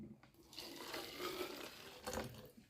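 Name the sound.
pouring boiling water over nettle leaves and cloves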